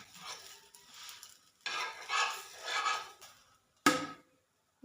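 Sabudana thalipeeth fries in oil on a griddle in soft, intermittent bursts of sizzling, quiet between them, with one sharp clatter of a utensil near the end.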